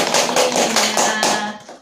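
A classroom of students applauds a classmate, a short burst of brisk hand claps lasting under two seconds, close and fairly loud before fading out.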